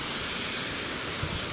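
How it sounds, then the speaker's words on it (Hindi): Fast-flowing water in a pond after rain rushes as a dense, steady roar, loud and close with no breaks. "आज तो पानी का बहाव भी हो गया एकदम तेज"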